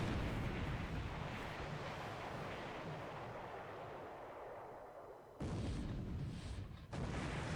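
Torpedoes strike Japanese naval targets near Perth in a 1942 Pacific naval strategy wargame: a continuous deep, rumbling barrage of explosive booms, dipping briefly before another loud burst.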